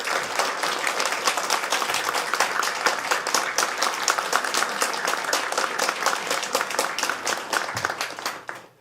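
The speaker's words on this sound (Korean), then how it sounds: "뜨거운 사랑과 격려의 박수로 모시도록" A church congregation gives warm, sustained applause to welcome a pastor to the stage, dense steady clapping filling the room for several seconds before tapering off at the end.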